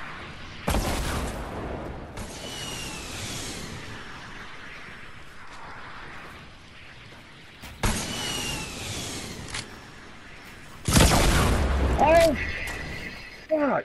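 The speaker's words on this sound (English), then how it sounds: "They're shooting rockets at us now?" Rockets fired and exploding in Fortnite, several loud bursts spread out with quieter rumbling and game noise in between, a louder cluster near the end.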